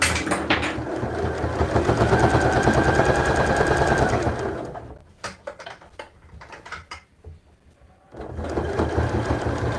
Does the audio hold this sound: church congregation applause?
no